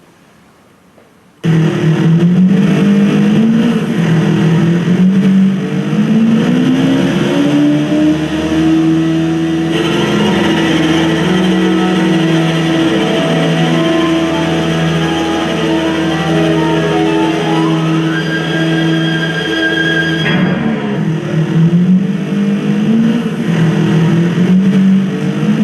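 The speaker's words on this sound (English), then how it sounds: "Piece for saxophones and car engines." Car engines blend with saxophones in a musical piece: a loud, sustained drone with shifting revving tones that rise and swell, then a sudden drop near the end.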